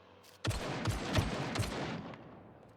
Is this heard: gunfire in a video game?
yes